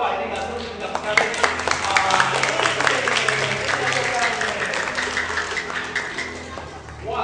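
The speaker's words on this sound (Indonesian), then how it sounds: "Ayo tepuk tangan dong." An audience claps hands in a scattered burst of sharp, irregular slaps that lasts the whole stretch, with a voice talking over it.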